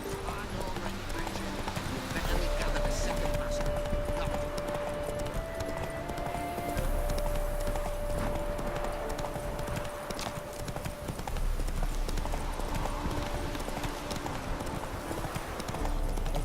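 Hoofbeats of a horse clip-clopping in The Witcher 3 as the rider travels, a steady continuous rhythm with an occasional whinny, and someone talks over it now and then.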